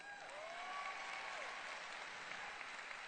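Steady applause from a large crowd at a keynote address of a global conference, heard faint and continuous with a few whoops at the start.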